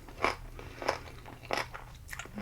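Sushi being eaten up close, with four distinct crunchy bites and chews spaced about half a second apart, soft and intimate with no talk.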